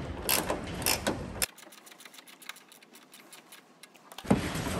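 A ratchet snugs a 17 mm bolt on a Mitsubishi Triton tailgate while a tailgate assist is fitted; a run of quick, light clicks follows some louder handling noise, and a clunk closes the sequence.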